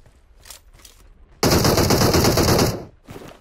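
Automatic gunfire in the PUBG Mobile game, a few faint distant shots followed by a loud, close burst of rapid machine-gun fire lasting over a second, then more faint shots, with no talking.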